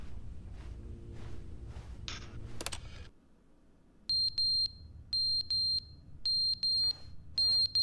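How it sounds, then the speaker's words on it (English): In The Stanley Parable video game, a smoke alarm repeatedly sounds its low-battery warning as sharp, high electronic beeps in short clustered bursts, following a stretch of game background noise and a near-silent pause. "Fire alarm? Oh no. Oh, the batteries need to change."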